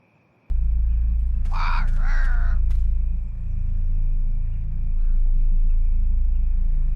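A crow caws twice in close succession inside the survival horror game Dollhouse: Behind the Broken Mirror, standing out over a constant low rumbling drone and a thin high whine.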